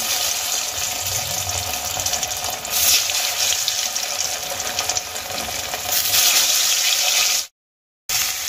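Boiled potato pieces sizzle and crackle in hot oil for an aloo dum, a steady broadband hiss close by, with no talking, ending in a brief silence.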